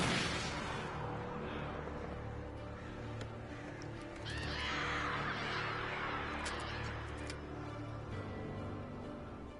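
Crows caw in the video game Alan Wake Remastered, harsh scattered calls that swell in a noisy burst midway over a low ambient rumble.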